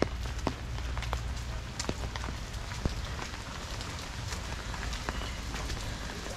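Steady rain falls on surfaces in a rural village in Hooghly during the winter season, a continuous patter with scattered sharper drips, moderately quiet with no talking.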